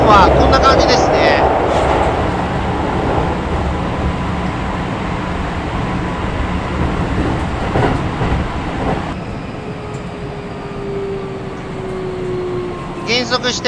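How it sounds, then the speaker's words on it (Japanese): Keikyu New 1000 series 20th-batch (1890 subseries) commuter train running between Shinagawa and Aomono-yokocho, heard from inside the car: a steady rumbling roar of wheels and motors that continues without a break, with a rising motor whine toward the end. "走行音はこんな感じですね。"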